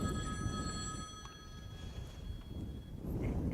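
A telephone rings with bright, steady electronic tones, loud for the first seconds and then fading out, over a low murmur of room noise at a Christmas play.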